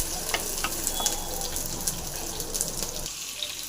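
Ginger and aromatics fry in a pan for kuppaimeni soup, a dense crackling sizzle with scattered pops and light stirring clicks, fairly close, thinning out slightly at the very end.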